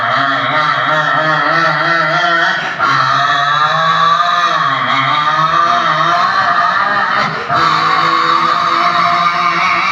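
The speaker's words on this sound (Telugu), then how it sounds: "ఎలా వస్తుంది బాలభావునికి ఆటో, పిల్లలందరూ ఎక్కించుకుని చూడండి దాని శబ్దం" An auto rickshaw engine runs after being push started with children aboard, a loud, steady, close buzzing drone that holds for ten seconds with two brief dips.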